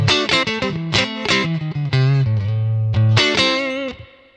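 Electric guitar played through a profile of a 1957 Fender Bandmaster amp, loud close chords and single notes with a fat low end, mild breakup and some sustained held notes, no voices.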